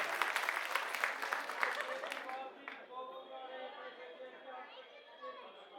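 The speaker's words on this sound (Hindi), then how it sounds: "इनके लिए ताली बजाओ" Crowd at a political rally for AAP MP Sanjay Singh in Mundka, Delhi bursts into loud applause, dense clapping for about two seconds that then gives way to a lingering murmur of chatter and voices.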